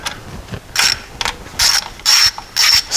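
A hand ratchet clicks in quick bursts while loosening the six seal housing bolts during a rear crankshaft seal replacement, loud and close with short pauses between strokes.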